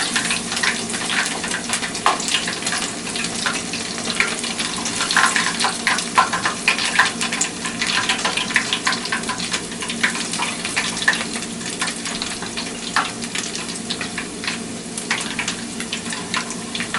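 A batch of fish nuggets sizzles in hot oil, a steady, busy crackle and hiss that carries on without pause, close by and free of talk.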